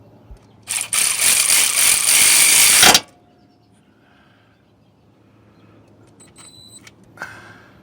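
Power tool driving the wiring harness bolt back onto the starter of a 2006 Chevrolet Malibu: a loud, close whirring burst lasting about two seconds, then quiet with faint clinks.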